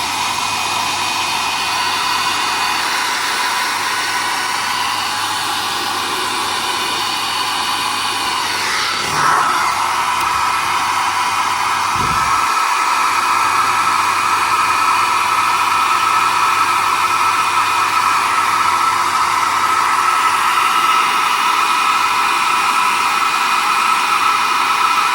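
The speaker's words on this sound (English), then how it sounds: "So excuse the noise, we're going to hit this with a hairdryer a second." A hair dryer blows continuously at close range over a painted model, a loud, steady whirring rush that holds for the whole stretch without talking.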